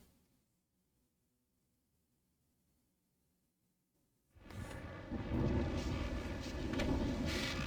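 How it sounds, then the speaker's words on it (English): Thunder breaks inside the video game Alan Wake: after several seconds of near silence a heavy, rumbling roll of storm noise rises abruptly and stays loud and broad to the end. "that storm we all felt coming is finally here"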